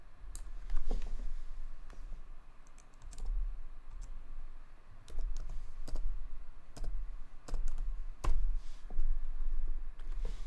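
Rapid, steady typing on a computer keyboard, with close clicking keystrokes in uneven bursts and short pauses, and no voices.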